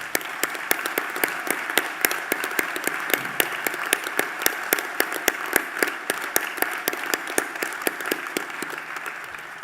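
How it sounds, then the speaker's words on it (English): An audience at a university graduation ceremony applauds the graduates with steady, sustained clapping, many hands blending into a continuous, moderately distant patter with sharper individual claps standing out. "I think we should give all our graduates a round of applause."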